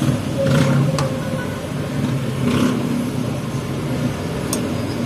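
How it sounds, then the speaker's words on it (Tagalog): Vehicles pass on a nearby road outside a home, making a continuous rumbling hum of traffic. The sound swells slightly as cars go by, with faint clicks and household noises mixed in. "Maraming dumadaan na sasakyan."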